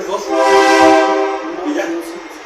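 Trains of the Ferrocarril Coahuila y Zacatecas rail line roll past while a horn sounds one loud, sustained chord-like blast that swells and then fades, with faint rumbling beneath and a voice heard briefly.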